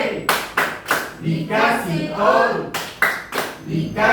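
Students in an Indonesian classroom guidance session clap the 'tepuk wow' pattern, with sharp bursts of claps in a set rhythm alternating with group chanting voices, loud and close.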